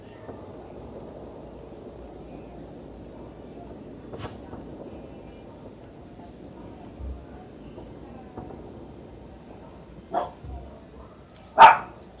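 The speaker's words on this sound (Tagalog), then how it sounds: "Maingay yung aso ko." A few sharp dog barks ring out in the distance near the end, over a steady low background murmur.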